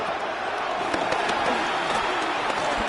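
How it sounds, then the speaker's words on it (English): Broadband roar of a football stadium crowd at a Hawks game, steady and dense throughout with a few brief sharp spikes, heard at a distance as a continuous wash of noise. "they're going to hear it from this crowd."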